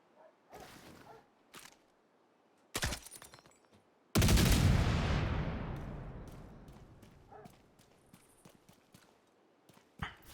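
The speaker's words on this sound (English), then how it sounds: "Let's blindly throw a cluster grenade." A cluster grenade explodes in The Division 2 with a sharp burst, then a long roaring blast that slowly fades over several seconds, with scattered gunshots and small pops before and after.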